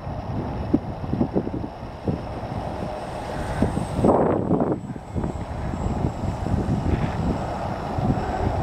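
A Park Zone Spitfire model airplane flies slowly with flaps down, its small engine buzzing steadily at mid-distance, mixed with wind rumble and occasional gusty swells.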